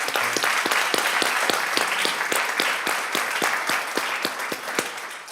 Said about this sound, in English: get a round of applause for your family